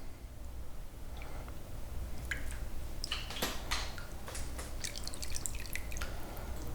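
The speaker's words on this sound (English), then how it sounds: "we're going to slowly add the rennet mixture into the milk" Rennet mixture drips slowly into a pot of milk for homemade mozzarella, a close, quiet series of irregular drops and small splashes that grows busier toward the end.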